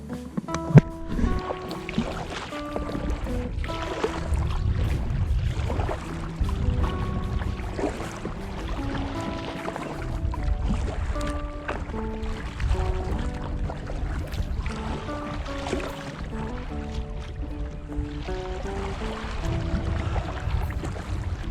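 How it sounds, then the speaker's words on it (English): Kayak paddling on the Swan River during a morning fishing trip, with steady water swishing and sloshing from the strokes throughout, fairly close, and faint tonal sounds in the background. "Kayaking, paddling, with or without fish."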